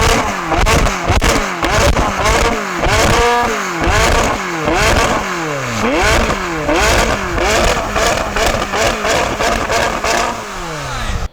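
McLaren 540C 3.8-litre V8 engine revving hard in repeated sharp blips, each climbing quickly then dropping away, loud and close with a rough crackling edge between pulls.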